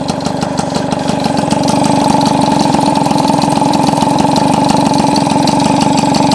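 An old engine with contact-breaker ignition idles steadily after starting, a loud, close, even mechanical rumble with a fast regular pulse and no talk, after sitting unused for a while.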